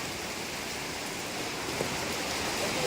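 Steady rain pouring down on the coast of Thiruvananthapuram during a yellow alert, a continuous dense hiss of falling water with no breaks and no talk.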